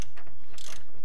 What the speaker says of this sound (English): Here's us taking the front bolt out until about four or five threads.